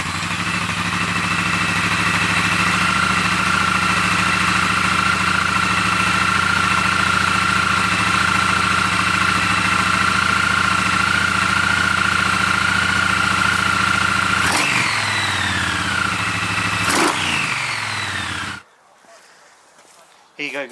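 A Triumph Bobber Black motorcycle fitted with a new Motone exhaust idles with a loud, steady, deep rumble, revs up sharply twice, then cuts out abruptly to near silence before a brief noise at the very end.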